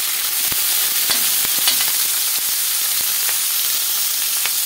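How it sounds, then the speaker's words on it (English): A breakfast cheeseburger patty sizzles loudly in a hot pan right after being flipped: a steady, dense hiss with scattered crackles and pops throughout, close up and with no talking. "Okay, it's been like 3 minutes, it's time to flip the patty."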